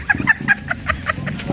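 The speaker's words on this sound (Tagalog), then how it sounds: "Mayroong manok doon." Chickens cluck in a series of short, repeated calls close by, steady and clear with no talk over them.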